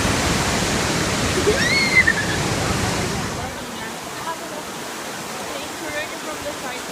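Rushing river water churns loudly near a steep drop, a broad steady roar that fills the first half before easing to a softer, more distant wash; voices are heard faintly over it.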